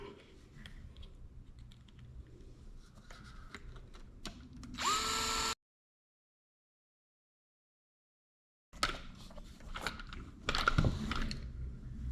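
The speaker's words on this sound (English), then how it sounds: "Put the screws back in." A power driver runs screws back into a Traxxas TRX4 RC truck, with a short whirring burst, a silent gap, then more whirring bursts amid light clicks and handling noises.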